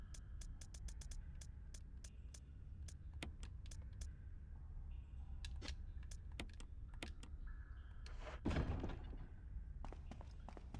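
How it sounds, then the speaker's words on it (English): Rapid clacking keystrokes of a typewriter in the Resident Evil video game, a string of sharp separate taps over a steady low hum, with a louder brief clunk near the end. "Is that a typewriter? Oh, that is a typewriter."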